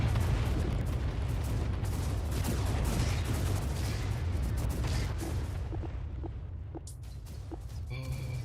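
Dense, continuous rumble of artillery fire in a strategy video game, booms overlapping into a heavy sustained roar that thins slightly toward the end, with a few sharper clicks near the finish.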